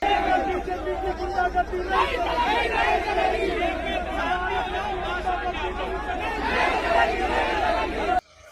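Thousands of protesters fill the streets of Bhopal late at night, a dense crowd of chatter and shouted cries rolling steadily throughout, with surges of raised voices before cutting off abruptly at the end.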